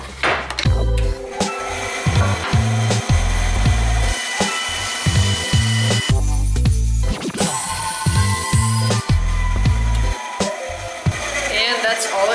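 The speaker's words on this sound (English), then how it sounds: "I'm gonna go cut this out of my bandsaw." A bandsaw cuts a rounded wooden profile with a loud, close motor drone. The blade whines against the wood in uneven stretches, broken by brief pauses and low thumps as the piece is repositioned.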